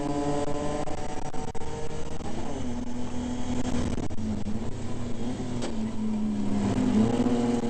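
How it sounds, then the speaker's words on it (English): Onboard a BMW E30 race car during a circuit race, the engine drones loudly and steadily, its pitch rising and falling through the gears, with road and wind roar beneath. "So we're back on board with Farmer battling there with the 10 of Harvey Gray."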